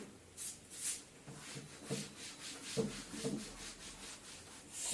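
Writing is rubbed off a classroom board in a series of soft, quiet scrubbing strokes, faint and alone without talk.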